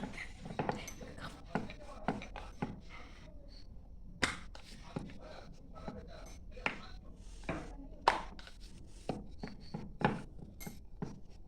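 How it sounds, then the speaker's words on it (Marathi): Dough for roll samosas is rolled into a flat round with a rolling pin, giving a steady series of light wooden taps and knocks against the board, with faint voices in the background. "एक गोळा घेतलेला आपण त्याला असा गोल गोल लाटून घेऊया चपाती कशी लाटतो"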